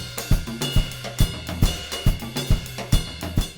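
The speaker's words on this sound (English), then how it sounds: "African 6/8 rhythm that is traditionally played with the right hand on the ride cymbal" African bembe 6/8 pattern played on a drum kit with the ride cymbal carrying the lilting repeated figure, over regular low kick and drum hits, close and clear, with no voices.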